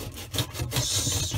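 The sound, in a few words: sanding a dishwasher surface with sandpaper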